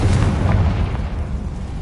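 A Confringo blasting spell cast in Hogwarts Legacy sets off a loud, rumbling explosive boom that fades over about two seconds.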